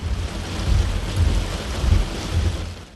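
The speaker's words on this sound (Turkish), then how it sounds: "hem gökten inen buz parçalarına hem de rüzgara direndi" Dense, continuous pelting of hail with low, rumbling gusts of wind, loud and unbroken throughout, during a hailstorm in Karacabey, Bursa, Turkey.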